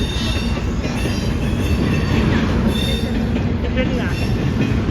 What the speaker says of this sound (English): When is it the end of the train?